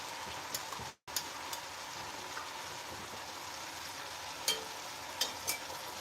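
Tomato paste fries in hot grease with a soft, steady sizzle, interrupted by a brief gap and a few faint clinks of a utensil.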